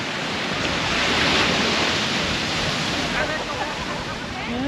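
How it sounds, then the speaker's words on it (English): Strong ocean surf at Puerto Escondido beach in Oaxaca, Mexico, a loud continuous crash and wash of heavy waves with wind noise on the microphone, close and alone. "there's a very strong current, and the waves just bash you on"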